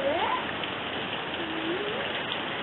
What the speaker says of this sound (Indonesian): Suasana ini hujan, tambah adem.